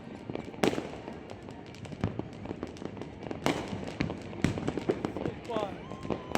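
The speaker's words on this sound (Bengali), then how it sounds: "পট পট পট পট করে ফেটে যাচ্ছে।" New Year's Day fireworks and firecrackers crackle and pop at a middle distance, with scattered sharp bangs over a steady background. People talk throughout.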